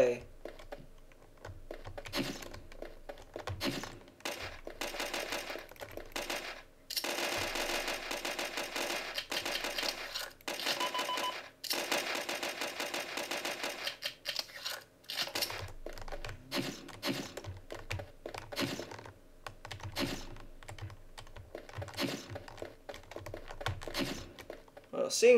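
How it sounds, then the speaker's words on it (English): Rapid clacking of a loud computer keyboard, typed in fast bursts with short pauses between them, close up. "seeing as this keyboard is loud, I'm gonna plug in my rubber one"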